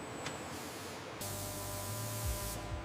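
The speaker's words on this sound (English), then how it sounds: "The exterior titanium surface receives a durable anti-corrosion sealant spray" A durable anti-corrosion sealant sprayed onto the exterior titanium surface of a Su-35 air intake duct in a factory, a steady hissing spray that swells louder partway through and then cuts off, with a low mechanical rumble underneath.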